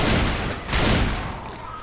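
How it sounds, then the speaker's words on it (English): Combat shotgun fire in Left 4 Dead 2 during a Dark Carnival zombie fight, two loud broadband blasts roughly 0.75 seconds apart, each decaying into a dense, noisy background of in-game action. "Not sure which is better, this shotgun or the other combat shotgun."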